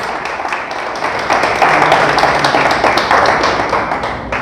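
A church congregation claps loudly and steadily for several seconds, a dense wash of applause that swells midway and stays strong to the end, with no voices over it.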